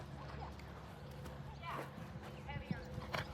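Horse hooves during an eventing ride, with faint, uneven thuds of strides under people talking nearby.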